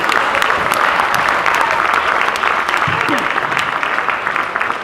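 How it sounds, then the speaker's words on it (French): Audience at a high school circus and theatre show applauding a juggler's trick, a dense, continuous burst of many hands clapping, loud and steady throughout with a faint voice briefly audible beneath it. "Oui, ça s'applaudit, ça s'applaudit."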